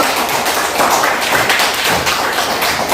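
A classroom of students claps together in steady, dense applause, loud and close, with no talking over it.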